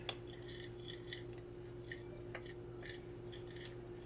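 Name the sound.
stirring beef gelatin mixture in a bowl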